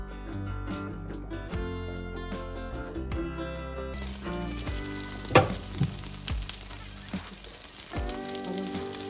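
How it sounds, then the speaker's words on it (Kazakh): Syrniki, cottage cheese pancakes, fry in a pan with a soft, steady sizzle beneath loud background music, with a few brief clatters partway through. "Жай отта екі жағы қызарғанға дейін 5 минуттай көлемінде пісіріп аламыз"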